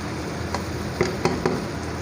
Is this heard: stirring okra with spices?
yes